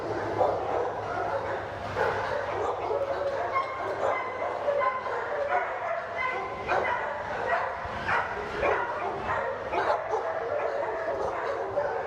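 Dogs at a shelter kennel bark, yip and whimper repeatedly, several voices overlapping at moderate distance in a busy, echoing space, with faint human speech mixed in.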